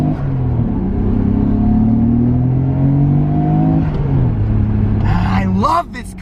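Mitsubishi Evo engine pulling through a gear under moderate throttle, a close rising rumble that drops at the shift and climbs again, cut off near the end by a brief burst of noise.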